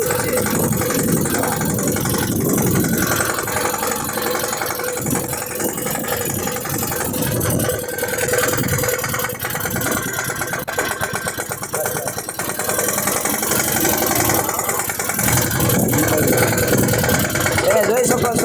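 A tractor engine runs in a farm field, giving a continuous loud rumbling drone with some variation in load. Someone talks over it at times.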